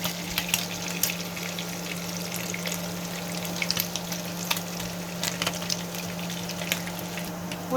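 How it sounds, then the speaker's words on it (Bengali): Small puti fish frying in a pan, being turned for Bengali tomato puti bhuna: a steady close sizzle with scattered sharp crackles and pops throughout, no voices. "এভাবেই আমরা মাছগুলো ভালোভাবে উল্টে ভেজে নেব।"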